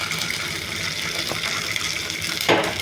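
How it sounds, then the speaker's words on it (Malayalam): Water poured into a cooking pan while making uppumavu, a steady broadband splashing rush running throughout with a brief louder gush near the end, no voices. "നമുക്ക് ഇത്തിരി കുറച്ച് വെള്ളം ഒഴിച്ചു കൊടുക്കണമേ"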